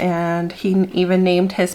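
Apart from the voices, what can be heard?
No everyday noise stands out behind the speech.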